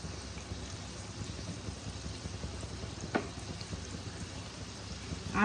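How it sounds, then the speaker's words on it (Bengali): Gluten-free baras frying in hot refined oil in a kadai, a soft steady sizzle with faint bubbling and one brief stir or clink midway, quiet and close. "দেখো স্ন্যাক্সগুলো আমার ভাজা হচ্ছে।"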